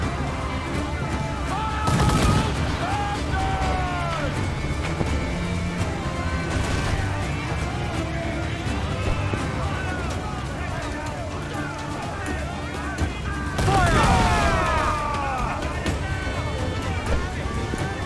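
Ship cannons firing in Assassin's Creed IV: Black Flag, heavy booming volleys at about two and fourteen seconds over a constant bed of naval battle noise, with crew voices shouting throughout.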